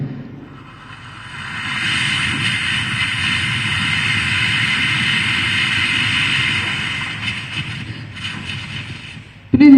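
A performer's voice imitates a sparkler (poothiri) being lit on a mimicry stage at the Kerala State School Kalolsavam 2024, building into a loud, steady, close hiss that holds for several seconds before cutting off abruptly.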